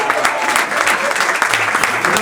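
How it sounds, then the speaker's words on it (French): A crowd bursts into lively applause, a dense close clatter of many hands with sharp individual claps standing out and some voices mixed in. "Applaudissez quand même."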